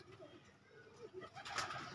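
Pigeons settled in a loft give soft, low, rolling coos, faint and somewhat distant against light background noise.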